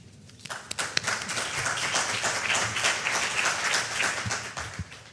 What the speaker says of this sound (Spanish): Les pido un aplauso, por favor.